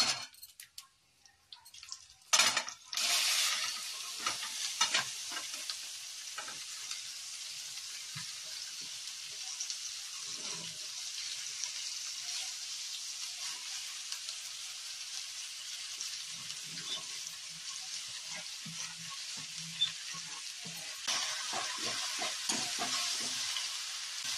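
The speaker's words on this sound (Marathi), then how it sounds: "आणि आपण परतवून घेऊया।" Okra dropped into hot oil seasoned with turmeric and asafoetida gives a sharp burst of sizzling, then a steady, bright hiss of frying with intermittent stirring scrapes, up close and without speech.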